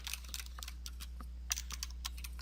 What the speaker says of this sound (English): I'm going to type a holiday